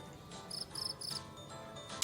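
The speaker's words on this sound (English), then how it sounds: "All right, I heard a splash of water and a cricket." A cricket chirping in an online listening game, several quick trilled bursts in an even rhythm, close and bright with no other sounds.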